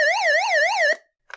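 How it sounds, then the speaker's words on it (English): Warbling siren from an Eton FR-300 emergency radio speaker, sweeping up and down rapidly, loud and electronic, cutting off abruptly before a short burst of noise. "There's a siren."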